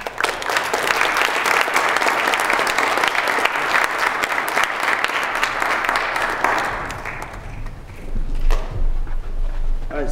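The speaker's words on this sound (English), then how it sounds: "Let's give him a big round of applause." A crowd at a Boy Scout troop court of honor applauds a scout with steady, dense clapping for about seven seconds, then the clapping fades into room noise and low rumble.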